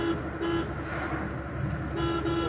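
Road traffic hums steadily while a car horn toots in short repeated bursts, a few blasts near the start and another pair toward the end, with no talking.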